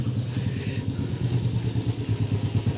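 Motorcycle engine idling close by with a steady, pulsing low putter and faint mechanical clatter, running alone without talk.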